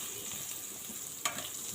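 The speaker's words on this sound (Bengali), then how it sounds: "ওখানে যে পটলগুলো দিয়ে দিলাম, পটল ভাজি করব।" Pointed gourd (potol) frying in a pan, a faint, steady hiss of sizzling oil with one brief clatter partway through, no voices.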